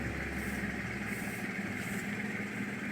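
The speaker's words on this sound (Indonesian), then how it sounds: "ada suara yang tidak wajar dari mesin ketika pedal dari kopling diinjak" Car engine running steadily with an abnormal noise while the clutch pedal is pressed, a continuous close mechanical hum with some vibration and no talk.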